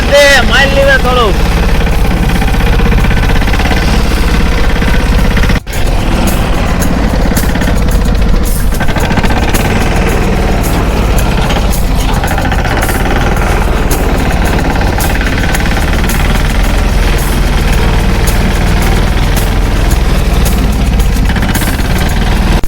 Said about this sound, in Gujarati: અને આ ટ્રેક્ટર જાય છે હવે આગળ